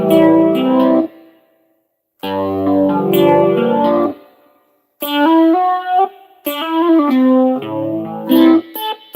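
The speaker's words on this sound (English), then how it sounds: "let's put some effects on this thing. Reverb send a maximum" Roland GM-800 synth keyboard chords and melodic runs drenched in maximum reverb, loud and alone, with notes swelling and tails ringing through the pauses.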